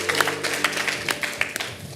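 Applause from a church congregation at an evening worship service, a short burst of scattered hand claps with a few sharp, distinct slaps standing out near the end.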